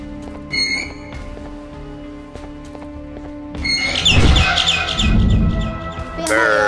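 A bird chirps in the horror video game Garten of Banban 6: short, bright chirps over a steady tonal game ambience, followed by a louder burst of busy game sound.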